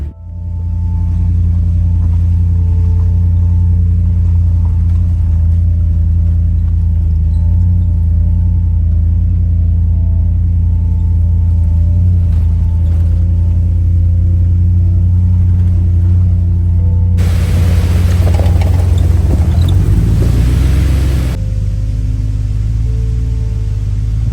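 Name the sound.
truck driving on a forest service road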